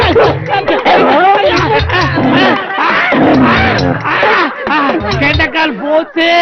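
Dog barking after being let loose amid a frantic crowd, excited shouts and wails nearly continuous, with barks buried in the loud commotion of many voices.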